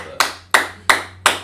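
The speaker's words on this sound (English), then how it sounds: "Let's clap it up for him." Four sharp, evenly spaced hand claps in a classroom, each a crisp close slap with a short decay, in a steady rhythm about a third of a second apart.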